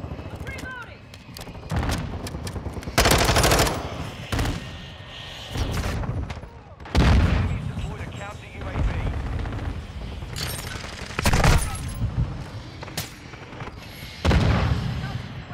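A VTOL aircraft strafes the area with gunfire in Call of Duty: Modern Warfare II, producing dense, booming volleys and heavy blasts that roll over one another almost without pause, loud and close.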